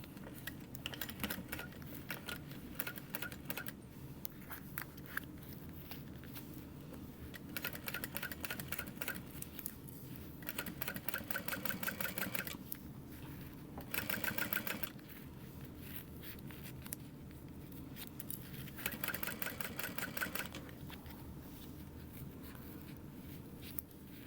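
A sewing machine stitches the seam of a sunglasses case, a quiet rapid mechanical whirr running in bursts with short pauses between them, close by and alone.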